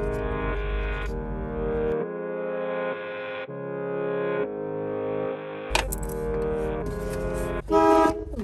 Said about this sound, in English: Well, the horn works.